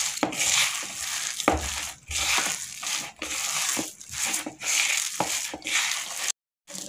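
Methi vada batter being mixed by hand with two spoons of rice flour, giving steady wet squishing and crinkly rubbing strokes in a close, repeated rhythm, with a brief silent gap near the end.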